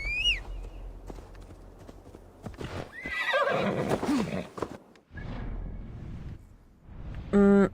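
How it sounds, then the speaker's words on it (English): A horse neighs and whinnies in Assassin's Creed Valhalla, with a clear whinny near the start and a louder one at the end. Hooves clop and game sounds play in between, with no one talking. "I just need my horse."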